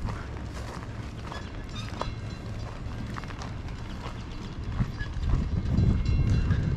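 A miniature ride-on train runs along the track at Train Mountain, a steady rolling rumble with faint rhythmic clicks of wheels, growing a bit louder and closer toward the end.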